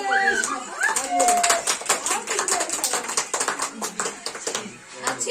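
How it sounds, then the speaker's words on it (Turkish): Guests clap at a child's birthday party after the birthday song, a bright, uneven burst of hand claps that thins out over a few seconds, with children's and adults' voices chattering over it. "Alkış."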